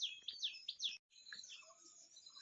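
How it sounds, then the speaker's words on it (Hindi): Several birds chirp and tweet in quick repeated calls on a morning in a mountain village, close and fairly loud, with a brief pause before softer, more scattered calls continue. "सुबह सुबह चिड़ियों की चहक बड़ी प्यारी सी आ रही है।"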